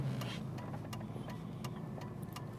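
A Ford Crown Victoria's engine hums steadily at low volume while the big car makes a slow U-turn, with faint road and cabin noise and no talking.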